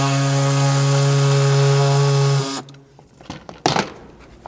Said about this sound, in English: you can come in with either your cutoff wheel or an air saw like I was using earlier and trim all that out.